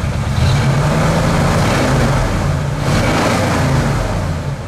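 A Ford engine runs steadily and loudly, with a broad, sustained engine roar and mild swells in pitch throughout, heard close up with no talking.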